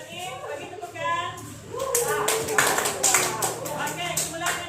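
A classroom of students claps hands together, a burst of applause rising under ongoing chatter and children's voices.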